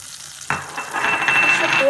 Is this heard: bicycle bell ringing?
no